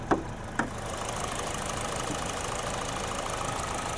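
A 2023 Kia Soul GT-Line's 2-liter inline four-cylinder engine idles with the hood open, giving a steady, even hum throughout, with two sharp clicks near the start.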